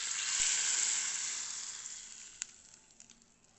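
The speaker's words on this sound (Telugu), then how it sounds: "ఇప్పుడు దీనిని చారులో వేసి వెంటనే మూత పెట్టేసేయాలి." Hot fried spice tempering is poured into tamarind rasam made without tomatoes, bursting into a loud, close sizzle that slowly fades over a few seconds, with a couple of small clicks near the end.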